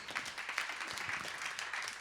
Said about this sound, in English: And you can clap for that too, that's cool, I don't mind.